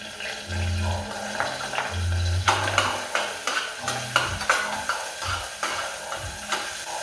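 Garlic and onion sizzle in a pan as they are stirred, with repeated scraping and clinking of the utensil against the cookware over a low background hum.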